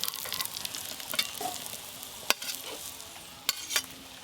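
Red lentil (masoor dal) fritters fry in oil with a soft, steady sizzle. A few sharp spatter pops and light stirring sounds rise above it, and there is no speech.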